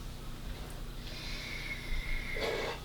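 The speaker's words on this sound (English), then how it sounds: "it's a really loud snore for such a small dog." A small, older dog snores with a quiet, close breathy rasp, followed by a louder snorting inhale near the end, heard alone against a soft indoor background.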